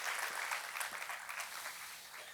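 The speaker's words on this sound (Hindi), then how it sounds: "तालियों के साथ उनका स्वागत करें" Church congregation applauding to welcome first-time visitors at a Sunday Hindi service, a steady wash of mid-volume clapping sustained throughout, slightly distant in the room.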